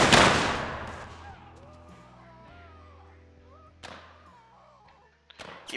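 Musket volley fire in Mount & Blade Warband with a Civil War mod: a loud, close crackling burst that rolls away into a fading echo, then two smaller volleys follow, with faint voices in the background.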